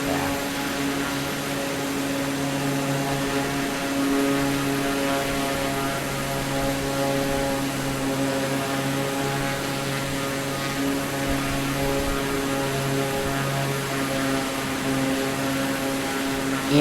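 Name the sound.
AI aircraft engine in video game Microsoft Flight Simulator 2024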